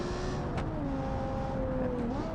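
Light V10 race car engine in a racing video game holds a steady, sustained drone, dipping and rising slightly, alone without talk.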